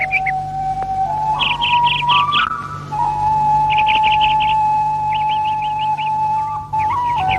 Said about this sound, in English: birds can be taken for a walk and introduced to other birds so that they can sing together in the trees